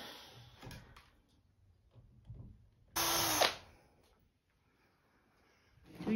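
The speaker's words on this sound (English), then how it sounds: "We're just pre-drilling the holes into the beam." A power drill pre-drills holes into a wooden beam in one short, loud, high whirring burst lasting about half a second, amid scattered handling clatter and quiet gaps.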